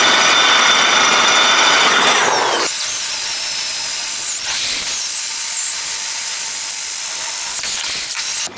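Power drill with a 5/16 bit boring holes for a homemade heavy-duty lawn aerator, a loud steady whine that runs hard for about two and a half seconds, then drops to a thinner continuous motor hum.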